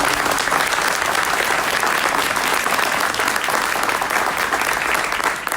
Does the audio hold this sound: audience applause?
yes